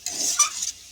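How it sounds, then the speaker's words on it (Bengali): Brief stirring of chicken curry with tomato, water and salt in a hot pan, a short scraping, sizzling burst lasting under a second before it fades. "এবার আমি টমেটো দেবো, জল নুন দেব, ভালো করে কষে নেব"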